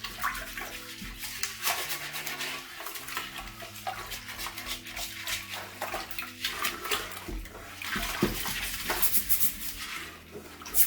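A toilet bowl being scrubbed with Pine-Sol Lemon Fresh, a brush swishing and sloshing through water in quick, irregular strokes, fairly soft and close with no speech.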